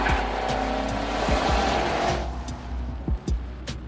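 Maserati Quattroporte Trofeo spinning its wheels on a wet track, engine revving hard with tire noise and water spray, loud and close, with sharp bursts near the end.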